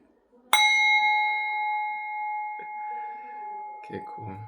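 A singing bowl struck once rings out with a bright, sustained metallic tone that slowly decays, close and loud, with a person starting to speak near the end.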